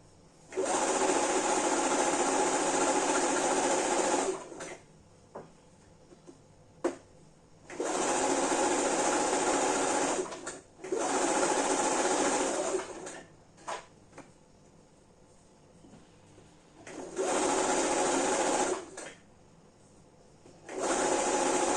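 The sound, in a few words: sewing machine stitching side seams of a ruched top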